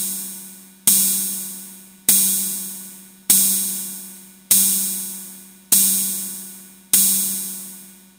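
Metallic synthesis model on an Elektron Analog Rytm drum machine, struck seven times at a steady pace: bright, ringing metallic hits with a low tonal hum, each decaying slowly until the next, played alone with no talk.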